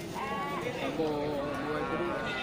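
Two rams for sale at a livestock market before Maulid bleat in short wavering calls, close by, with people talking over them.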